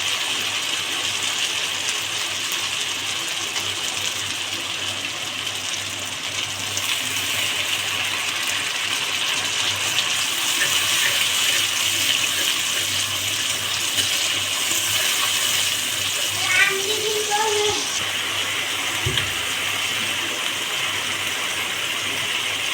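Water pouring and gushing into a cooking pan with pangas fish, a steady loud rushing stream lasting throughout, close and continuous with a few small splashes near the end and no talking.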